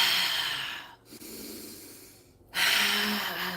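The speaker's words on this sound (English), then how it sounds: "Keep breathing." Forceful breathwork breathing: a strong, rushing inhale, a pause, a softer breath, then another loud, harsh exhale, close to the listener with no speech.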